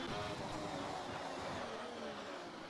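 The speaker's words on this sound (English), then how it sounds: "Red Bull Honda engine still sounds the same." Red Bull Honda Formula 1 engine in a racing video game at Miami, a steady high-pitched buzzing whine held loud and constant throughout, with no talk over it.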